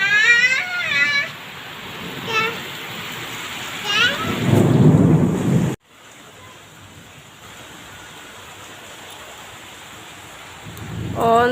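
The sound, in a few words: heavy rain with thunder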